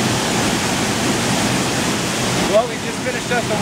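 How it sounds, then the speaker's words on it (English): A waterfall in Costa Rica roars as a steady, dense wash of rushing water, loud and continuous throughout, with a slight change in tone near the end. "Waterfall"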